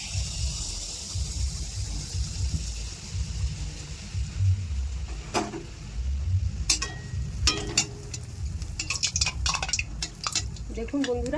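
Pitha cakes fry in hot oil in a wok with a soft, steady sizzle, broken by sharp clinks and scrapes of a utensil against the pan, while someone talks.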